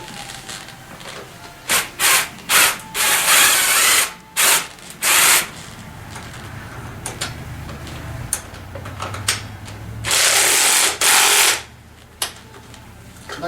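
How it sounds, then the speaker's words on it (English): A hand ratchet tightens bolts during assembly of a TaoTao ATM50A scooter, making bursts of rapid clicking that start and stop irregularly, close up and fairly loud. "I'm going to cheat a little bit because I'm using a ratchet"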